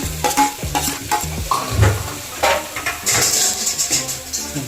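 Spoon stirring mashed potato with salt in a pan for Mumbai-style vada pav, with repeated scraping and clinking strokes against the metal, a light sizzle underneath, close and fairly loud.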